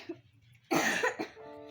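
A single harsh cough up close, then a short follow-up huff and a brief voiced sound.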